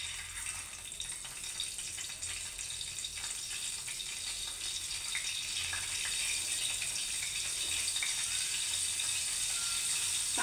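Fish pieces coated in rice flour and semolina frying in hot oil, giving a steady, moderately quiet hiss and crackle with no speech, growing slightly louder toward the end.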